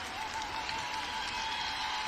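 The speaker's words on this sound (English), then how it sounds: "There you see the Aquinas players applauding their fans that have supported them all along" Aquinas football players clapping for their supporters after a WIAA 2023 Division 5 state football championship game, a steady dense wash of applause from a crowd filling the whole stretch.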